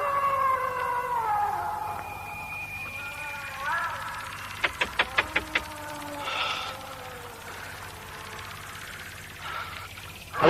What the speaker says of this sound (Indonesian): Anjing itu melolong terus.